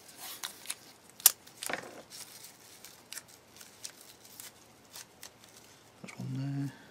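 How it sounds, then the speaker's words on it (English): Tape pulled and pressed over the corners of a Takom 1/35 scale Chieftain Mk10 model kit, a series of quiet crinkling and tearing clicks with one sharp snap, ending in a brief low hum. "Straightforward tape, like so, and then we just pinch these corners over."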